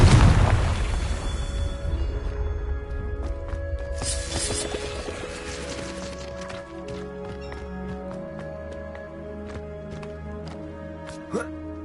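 A Confringo blasting spell explodes in a Harry Potter video game, a loud booming burst at the start that rumbles and fades over several seconds, followed by scattered game effects and a low steady hum.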